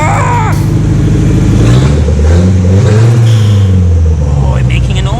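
A Nissan S13 with a CA18DET engine, just after injector cleaning, revs hard and close, rising and falling through several loud bursts over a rough idle.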